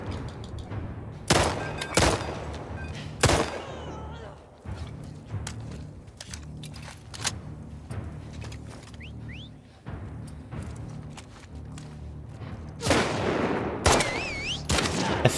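Loud, sharp gunshots from The Last of Us Part II. Several isolated blasts are spread through the clip, with a burst of rapid shots near the end, over quieter creaks and mechanical ambience.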